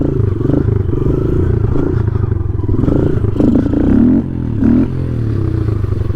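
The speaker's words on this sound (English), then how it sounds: "This thing bogs down when it gets on the back wheel" A motorcycle engine bogs down while the bike is up on its back wheel in a wheelie, a loud, steady low drone that sags and strains, with brief surges near the end.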